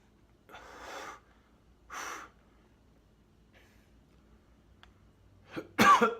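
A person coughs, a stuffy-nosed adult with congested sinuses, in a quiet room: two short hoarse coughs about a second apart, then a faint sniff or snort and a final louder, sharper cough, with no talking.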